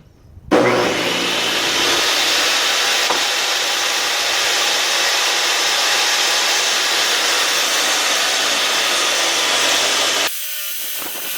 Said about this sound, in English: I'm going to go ahead and rip it down in 2 passes to make sure I'm not taking off too much at once.